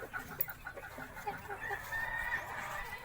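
Plymouth Barred Rock chickens on a free-range farm cluck repeatedly in short, close bursts, with a busy background of other fowl.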